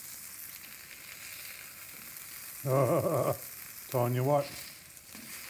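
One-third-pound bacon burgers sear on a Blackstone griddle with a steady, moderate sizzle throughout, and someone speaks briefly twice over it.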